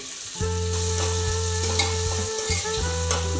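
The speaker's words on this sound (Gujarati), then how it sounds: "વ્યવસ્થિત રીતે બધું આપણે તેલમાં મિક્સ કરી લેવાનું છે" Papdi beans are stirred in hot oil in a pan, sizzling steadily throughout while a spoon scrapes and knocks against the pan in an uneven rhythm.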